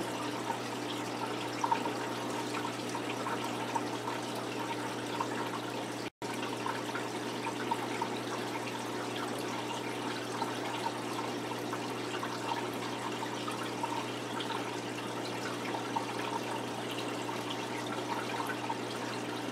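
Cold tap water runs steadily from a faucet during a water change on a gudgeon fish aquarium, a constant hissing flow with no talk.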